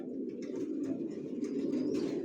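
Baby racer pigeons kept for sale coo in a low, steady, continuous murmur, close by and without talk.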